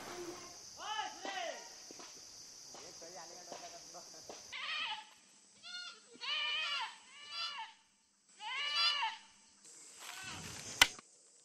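Goats being grazed by village children bleat repeatedly in short, wavering calls, some close and loud, others fainter, with brief pauses between them and a sharp knock near the end.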